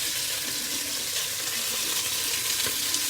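Meat for Creole jambalaya fries and browns in a pot, giving a dense, continuous sizzle and hiss at moderate volume with no talking.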